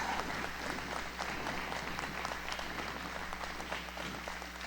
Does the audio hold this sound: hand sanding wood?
no